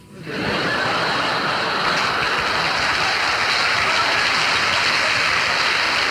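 A large concert audience breaks into loud, sustained clapping that swells in quickly and stays dense and even to the end.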